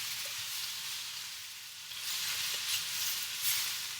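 Pad thai with bean sprouts and egg stir-fried in a wok, a steady close, loud oil sizzle that swells as the ingredients are scooped and flipped, with faint clinks of a utensil.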